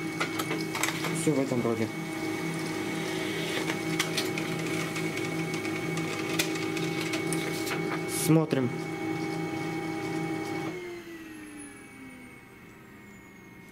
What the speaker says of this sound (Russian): Сейчас он напечатает пробную страницу, где будет написан пробег.